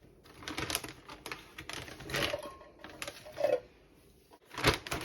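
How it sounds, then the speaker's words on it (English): Manual can opener cranking around a can of diced tomatoes in a kitchen, with close, uneven clicking and metallic ratcheting in short bursts separated by pauses. "the next tool that I'm going to use is a can opener. I'm just going to open this can of diced tomatoes"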